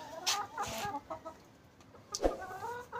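A hen clucks in short bursts, a few separate clucks spaced across the moment, close by with quiet farmyard background.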